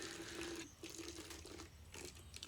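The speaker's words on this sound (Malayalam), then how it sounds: "ഇനി നമ്മൾ ആ ഒരു കുപ്പിയിലേക്ക് ചെറിയ ചൂടുള്ള വെള്ളം ഒഴിച്ചു കൊടുക്കും" Warm water is poured into a plastic water bottle in a kitchen, a steady close liquid stream with gurgling, faint and continuous, with brief pauses and no speech.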